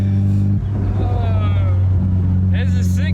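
Honda S2000 convertible driving top-down while stuck below 3,000 RPM, its engine a steady low drone with a brief dip, voices talking over it.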